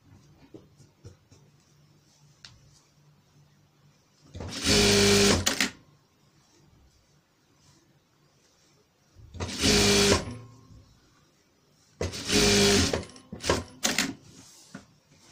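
A sewing machine stitches a pillow trimmed with ruffles cut from Indian sari fabric, running in three close bursts of rapid whirring stitching, roughly a second each, separated by quiet handling pauses.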